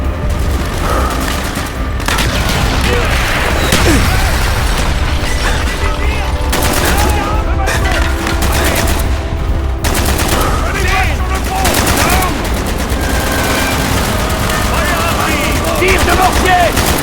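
Mortar blasts and rapid gunfire crackle continuously through a Call of Duty Black Ops battle, dense and loud with booms and bursts layered over battlefield din and shouted voices.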